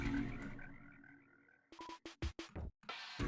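Baby frog grandfather character croaking in a Deltarune mod video game, a few short separate bursts after a sustained musical tone, close and fairly loud with no talk.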